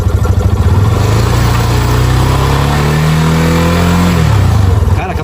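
A Yamaha motorcycle engine with a weak battery revs loud and close, its pitch rising steadily before dropping sharply back toward idle near the end.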